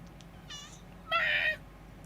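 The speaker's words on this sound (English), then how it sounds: "Kitty cat." A cat meows twice nearby against a quiet room: first a short, softer mew, then a louder, longer drawn-out meow.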